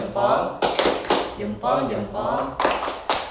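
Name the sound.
group clapping routine called tepuk salut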